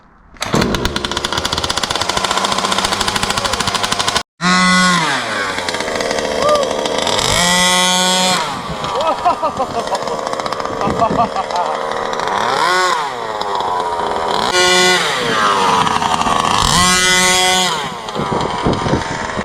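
A Rovan Max 45cc gas engine on an RC vehicle starts and runs during break-in, roaring up in loud, repeated throttle bursts that rise and fall like a chainsaw. One brief cut occurs near the start.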